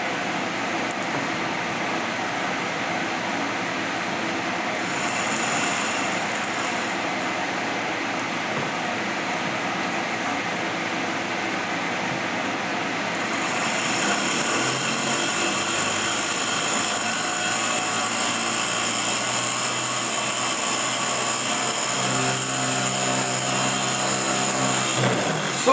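Small experimental DC motor running with one of its two magnets removed, spinning at nearly 4,000 RPM; a steady mechanical whine and hum that grows noticeably louder and fuller partway through, then holds evenly with no talking.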